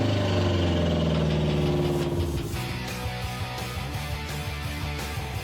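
A rebuilt 22B engine runs on a stand, idling loud and close with a steady, slightly uneven mechanical rhythm that settles into a regular pulsing beat.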